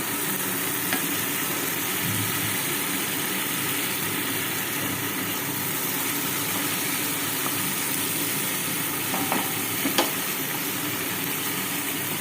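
Potol and prawn ingredients sauté together in a pan, an even broadband sizzle that holds steady throughout, close up with only a couple of faint utensil taps and no voices.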